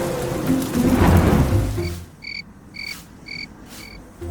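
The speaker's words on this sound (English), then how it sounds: "a thunderstorm appeared out of nowhere" Rain from a rainforest thunderstorm hisses densely for about two seconds under a low rumble, then drops away and leaves rhythmic, high chirping of frogs or insects pulsing evenly in the quiet.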